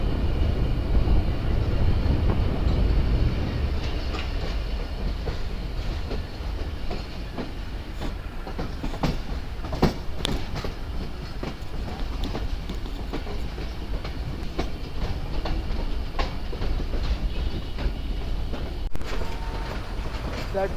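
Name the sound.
train running on rails, Mohen Jo Daro Express in Sindh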